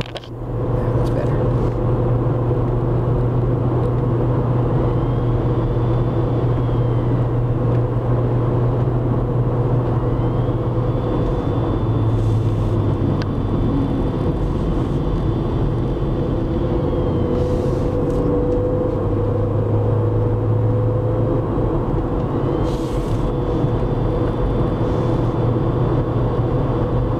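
A car cruises along Highway 40 near Lillooet, British Columbia, its engine and road noise a loud, steady rumble from inside the cabin with small shifts in pitch as the drive continues.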